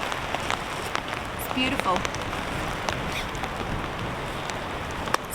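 Heavy rain pattering steadily on a camping tent during wild weather, a dense continuous drumming with occasional sharper drops. A voice speaks briefly over it.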